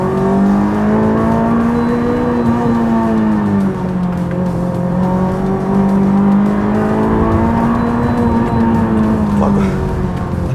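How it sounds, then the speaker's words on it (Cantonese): A J's Racing Honda S2000 engine revs hard and loudly on a mountain road at Tai Mo Shan, a sustained high-pitched wail that rises and falls steadily for about ten seconds, close and dominant throughout. "我諗成個大帽山都聽到呢架車，好誇張啲聲"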